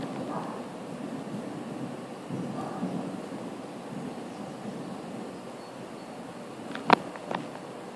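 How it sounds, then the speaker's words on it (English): A lightning storm over NYC, with a steady soft hiss of rain, low distant rumbles of thunder, and one sharp, brief crack late on. The whole scene stays fairly faint. "This is a lightning storm."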